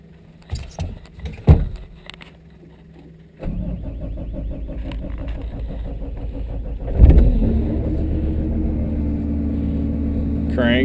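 A Cat 259D track loader with a newly installed fuel lift pump, heard close up: a few clicks and knocks, then the engine cranks and catches, settling into a steady diesel idle that swells briefly before running on evenly.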